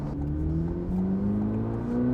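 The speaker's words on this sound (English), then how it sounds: "just the revs of the engine just sound smoother too" A 2026 Chevrolet Corvette C8 ZR1 engine revs in a steady, smooth drone with rising pitch, close and continuous throughout, with no talk.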